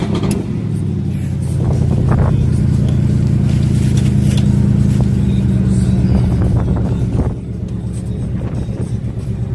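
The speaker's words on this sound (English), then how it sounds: "you can still hear the whine, the supercharger whine" A supercharged car engine revs hard up close, a loud rising roar that holds and then eases off, with a whine riding on the engine and people talking underneath.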